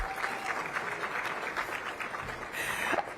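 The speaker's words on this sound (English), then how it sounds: "Give yourselves a round of applause." A business audience at a DC Chamber of Commerce event applauds, a moderately loud wash of clapping heard from a distance that swells slightly near the end.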